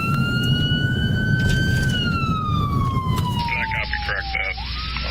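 A stolen ambulance with a patient in the back, emergency lights flashing, speeds away from Wisconsin Rapids in central Wisconsin. Its siren wails in one long, steady sweeping tone over heavy traffic rumble, loud and continuous, and the pitch slides down toward the end.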